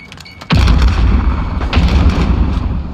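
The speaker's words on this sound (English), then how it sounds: "Throwing grenade." A grenade blast in Call of Duty: Modern Warfare, a sudden loud boom with a deep low-end thump that rolls into sustained rumbling battle noise with scattered crackles of gunfire.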